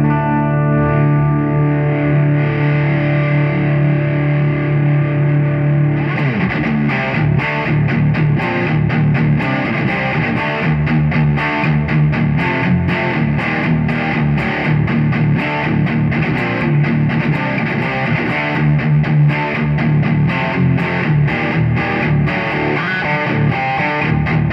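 Loud, crunchy Gibson Custom Dave Amato Les Paul Axcess electric guitar through an overdriven Fender Super Reverb tube amp, with sustained chords that give way to busier, rhythmic strumming partway through. No one speaks.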